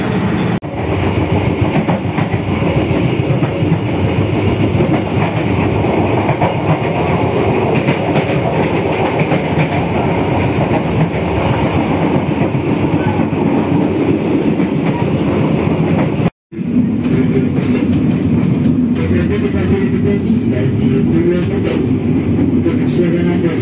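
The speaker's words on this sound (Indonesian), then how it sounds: "kita tunggu keberangkatan dari kereta api Ranggajati dari stasiun Bumi Ayu" Ranggajati passenger train at Bumiayu station, a loud, continuous rumble of railcars rolling close by with a rhythmic clatter of wheels, broken by a brief cut before the noise carries on steadily.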